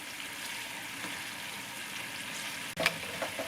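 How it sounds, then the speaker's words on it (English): Food fries in a pan with a steady, soft sizzle and crackle, broken by a brief clatter near the end, as if stirred or turned. "So basically what you're gonna do is you're just like frying them."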